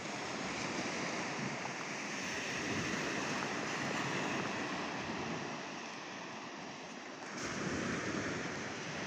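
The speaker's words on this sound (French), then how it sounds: "Elles sont toutes petites des vagues." Small sea waves wash onto the beach at Gruissan in a continuous soft surf roar, swelling and easing slightly, with wind buffeting the microphone and no voices.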